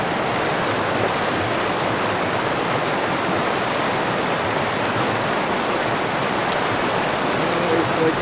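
River water rushing past a river crossing on a Colorado backpacking loop near Maroon Bells, a steady broadband roar of flowing current, continuous and close, with no break across the stretch.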